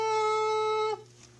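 A bright, buzzing harmonic tone suddenly turns dull and much quieter, imitating how sound is heard through ears clogged with fluid and earwax buildup.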